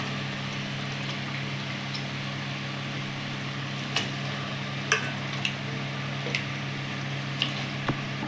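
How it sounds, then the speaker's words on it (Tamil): Chicken sautés with ginger garlic paste in a pan, giving a soft, steady sizzle over a low hum, with a few sharp clicks of a stirring utensil. "இஞ்சி பூண்டு பேஸ்ட் போட்டு நல்லா வதக்கி விட்டாச்சு"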